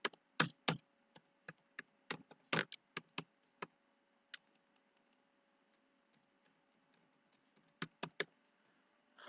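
A password goes in on a computer keyboard in quick bursts of faint, crisp clicks, then a quiet gap, then a few more keystrokes over a low steady hum.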